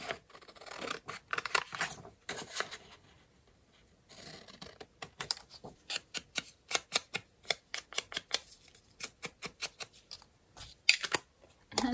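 Scissors snip through paper during an eco-printing craft project, a rapid run of crisp, close, fairly loud cuts after a quieter stretch of rustling handling, with no talk.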